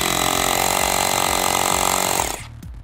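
A loud, continuous Metabo HPT cordless hammer drill grinds into concrete for over two seconds, then cuts off abruptly, leaving quiet room noise.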